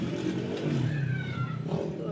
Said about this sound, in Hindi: सॉरी मोटरसाइकिल आ गया था।